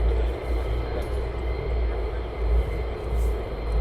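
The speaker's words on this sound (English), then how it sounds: "KC-135 coming back in." A KC-135 jet coming back in to land at an air base, heard as a loud broad rumbling roar that swells and wavers throughout, with no other distinct sounds.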